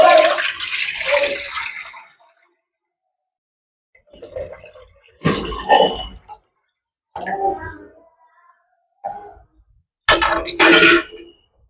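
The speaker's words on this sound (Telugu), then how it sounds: "వాటర్ వేసుకుందాం." Water is poured into a cooking pot for biryani rice in several separate bursts of splashing and gushing, loud and close, with silent gaps between pours.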